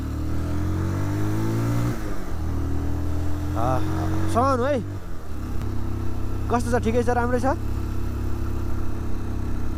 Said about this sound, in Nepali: बाइकले तान्नै छोड्ला जस्तो